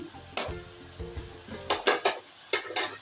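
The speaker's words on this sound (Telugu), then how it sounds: "ఇది ఒక రెండు మూడు నిమిషాలు ఫ్రై చేద్దాం" Mixed vegetables frying in a pan with salt, chili powder, turmeric and coriander powder: a low hiss under a series of sharp, close clinks and scrapes from a spoon stirring against the pan.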